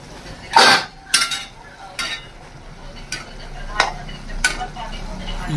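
A utensil stirs hot water in a cooking pot on a home stove, producing a few sharp scraping clinks against the metal over a low bubbling background.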